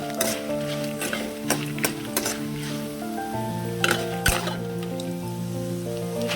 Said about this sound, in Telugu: సిమ్లో పెట్టి ఇలా తిప్పుకుంటూనే వేయించుకున్నామండి